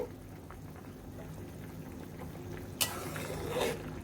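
A covered pot of thin fish curry with ridge gourd, green chillies and water comes to a boil, giving a faint, steady bubbling hiss with a brief louder surge near the end.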